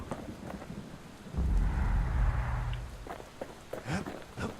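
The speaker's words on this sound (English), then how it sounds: "And now it's all rainy and things." Rain and a rolling rumble of thunder from the video game Bastion, with a low, heavy roll swelling midway through over a steady wash of rainfall, followed by scattered lighter patter and faint talk.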